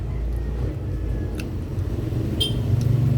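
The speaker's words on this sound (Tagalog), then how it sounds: "Ingay ng motor." Motorcycle engine running nearby, a steady low rumble that holds throughout with slight roughness toward the end, with a few faint high blips over it.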